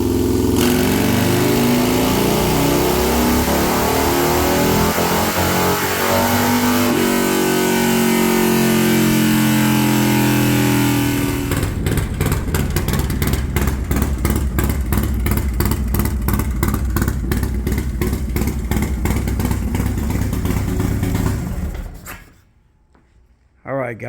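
A Harley-Davidson M8 engine with an S&S 129 ci build and Screamin Eagle CNC Extreme heads fires up and runs, a loud close rumble that settles into a rapid steady lope before cutting off abruptly near the end.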